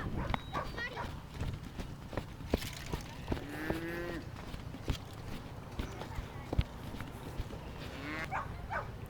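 Cattle being moved on a farm low several times, drawn-out moos at moderate distance mixed with scattered hoof clops and clatter, while a person calls out to the herd between and over the calls.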